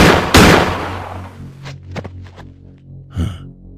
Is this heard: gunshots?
yes